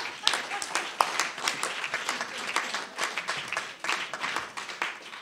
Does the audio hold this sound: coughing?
no